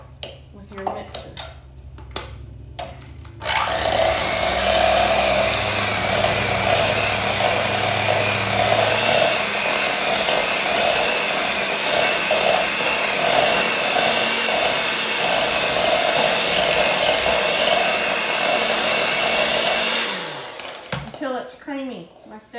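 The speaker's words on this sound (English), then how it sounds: "with your mixer." Electric hand mixer creaming butter and sugar for a chocolate cake, a steady loud whir running about sixteen seconds before cutting off, with brief kitchen clatter and a voice before and after.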